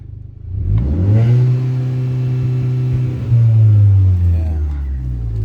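A hot hatch engine revs up loudly and holds against a soft rev limiter, a close, sustained buzzing drone that climbs in pitch, plateaus, surges again and then eases off.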